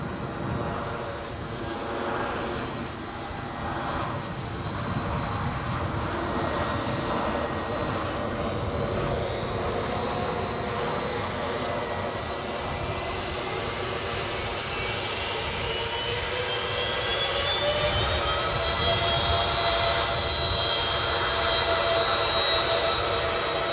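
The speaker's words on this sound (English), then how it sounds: "Oh, somebody's on finals though. Ryanair inbound" A Ryanair jet airliner on final approach to land at Edinburgh airport, its engine roar steady and close for the whole stretch, with a rising whine building toward the end.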